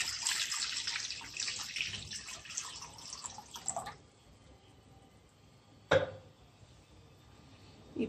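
Water pours steadily into a vessel while preparing kozhukkattai dough for Chathurthi, a full splashing stream that stops abruptly, then a single sharp clink after a short quiet.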